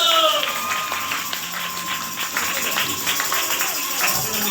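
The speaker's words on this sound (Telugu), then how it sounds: "చప్పట్లు." Clapping for a child's karate show rattles along as a patter of applause, mixed with talking voices.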